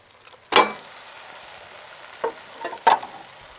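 Seasoned beef cubes dropped into hot Trinidad curry sizzle in bursts: one sharp hiss, then two shorter ones a couple of seconds later, quiet between them, with no talk.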